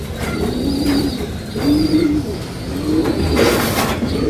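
Racing pigeons coo in repeated low, throaty phrases at close range, three or four bursts over steady outdoor background noise.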